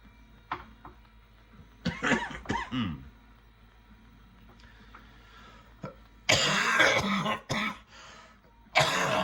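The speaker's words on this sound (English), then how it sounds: "I have kind of a shallow cough." A few short, shallow coughs and throat-clearing sounds, close to the microphone, spaced out between quiet pauses, with a final brief cough at the end.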